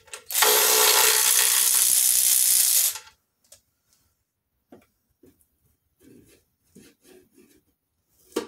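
Larger 5/8 bolts are driven into a Jeep 4.0 engine during a rebuild with a loud, continuous power-tool whir for about three seconds, followed by faint scattered clicks and handling noises.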